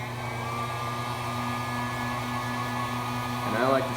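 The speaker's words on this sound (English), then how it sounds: "plug in your heat gun" A heat gun shrinking heat-shrink tubing over a soldered joint in a car stereo wiring repair blows with a steady, loud whooshing hum and constant tones, with a brief voice near the end.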